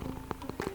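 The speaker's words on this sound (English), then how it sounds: "there's a cafe where the tea is strong and the purring is nonstop." Cats purr in a cat cafe in Seattle's Capitol Hill, a soft, close rumble with a few gentle pulses over less than a second, heard alone.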